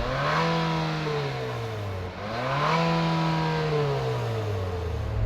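A 2022 Infiniti QX55 engine revs from outside the car, rising, dipping briefly and climbing again in a steady, loud, close drone, with no voices.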